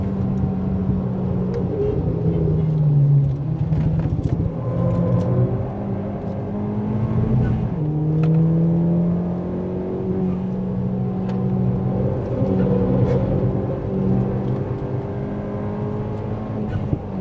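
A Ford Fiesta ST180 Stage 2+ engine drones and revs up through the gears on Snetterton track, pitch rising and dropping with each shift, heard from inside the car.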